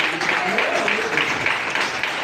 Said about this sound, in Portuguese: Palmas de vitória para Jesus.